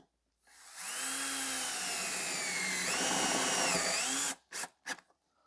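Power drill driving a self-tapping screw into the leg of a feeder: a steady, whining motor runs for several seconds with a slight shift in pitch, then stops and gives two short final bursts.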